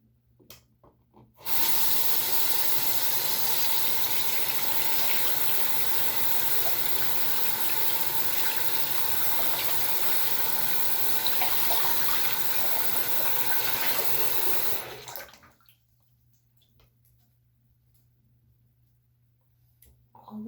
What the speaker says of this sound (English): Now I'm going to turn the water back on.